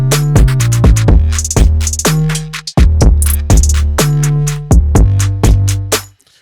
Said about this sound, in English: Which is a pretty decent 808.